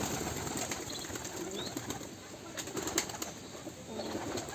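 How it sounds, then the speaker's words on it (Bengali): Pigeons gathering after their cage is opened, with soft fluttering and faint cooing over a steady hiss of background noise, distant and low. "দেখো এক এক করে সব পায়রা চলে আসবে।"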